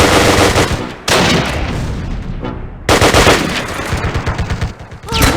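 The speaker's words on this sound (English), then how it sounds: "We're under heavy fire!" Gunfire in the video game Close Combat crackles in dense bursts of rapid machine-gun shots and sharp rifle cracks, loud and close, broken by brief pauses before fresh volleys resume.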